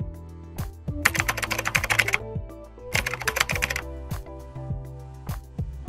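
Rapid bursts of tapping on a phone screen or keypad while searching for the App Manager setting, clustered clicks in two main runs with scattered taps between, close and crisp.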